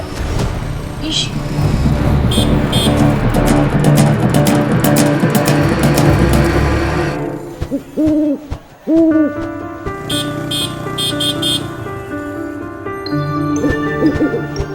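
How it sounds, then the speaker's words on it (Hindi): An owl hooting amid a music-backed horror drama scene, a few rounded hoots rising out of a dense, loud musical bed that thins out midway, with dialogue-like voices nearby. "ये उल्लू हमारे पास आया है।"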